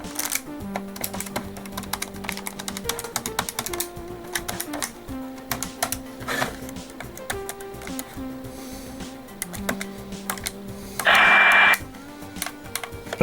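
Buttons pressed on a Sangean ATS-405 radio give sharp plastic clicks, scattered and some in quick runs, heard close up over a low radio tone and a brief burst of static.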